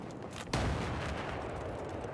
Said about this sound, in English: Quite an effective mortar by Groan there